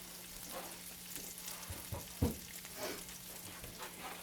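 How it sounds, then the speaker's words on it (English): Food sizzles steadily in a hot pan, a soft continuous crackle with a few sharper pops, close by and with no talking. "Putting it in. A little bit of a sizzle."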